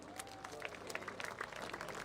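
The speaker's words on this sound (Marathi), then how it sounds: "जोरदार टाळ्या श्री नंदेश उमप यांच्यासाठी." Faint, distant crowd applause for performer Nandesh Umap at a Shiv Jayanti celebration in Porvorim, Goa, a steady patter of scattered clapping throughout.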